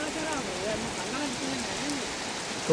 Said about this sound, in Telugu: మస్తు పడుతుంది వాన